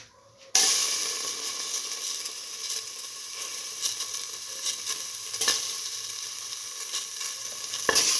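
Tomato pieces hit a hot pan with a sudden loud burst of sizzling, then keep up a dense, steady hiss with occasional spattering pops and stirring scrapes, close up, cutting off abruptly at the end.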